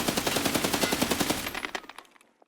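Rapid automatic rifle fire from the shooter game Escape From Tarkov, a fast even burst of around twenty close, loud shots that stops abruptly and leaves a short fading tail with a few faint clicks.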